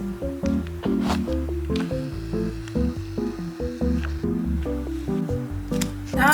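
Sauce is squeezed from a packet onto cheese-flavored Buldak spicy ramen, a soft, wet, close-up squishing with small irregular spurts and no talking.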